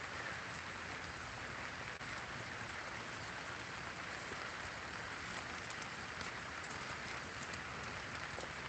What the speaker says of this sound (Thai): ฝนตกหนักมากเลยเพื่อน ๆ